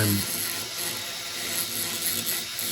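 A milling machine cuts a metal lock key with a dense, steady, grinding chatter, close up, with no pauses and no speech.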